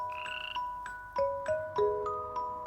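Frogs by a reed-fringed lily pond croak in a steady series of loud, clear, tonal calls, one after another, close by, with no voices.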